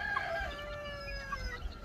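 Chickens in a coop give a few soft clucks and drawn-out calls over a steady background rustle, fairly quiet and close.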